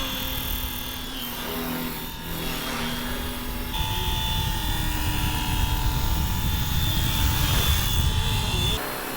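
A large Fly Wing FW450L V3 RC helicopter flying overhead with a steady, loud rotor and motor whine that holds throughout, shifting slightly in pitch as it maneuvers, with no talk over it.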